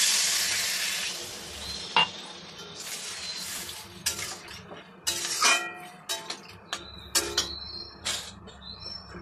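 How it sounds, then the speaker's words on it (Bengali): Water pours into a pan of frying spiced potato masala, setting off a steady hiss with clinks of a utensil on metal and brief rattling stirs; close and moderately loud, no voices. "এবার আমি পরিমাণ মতো জল দিয়ে দেব।"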